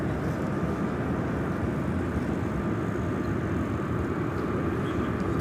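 Airliner arriving at LAX, a steady broad low engine roar droning continuously at moderate distance with no break.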